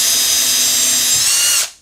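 A power drill runs steadily at its second speed setting, boring small pilot holes down into a wooden board for a hedgehog house; loud, close, continuous whine that cuts off abruptly near the end.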